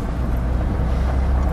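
The Super Eight engine of a 1938 Packard Sedanca deVille with Barker coachwork runs at a steady, deep idle, a continuous low rumble with no talk over it.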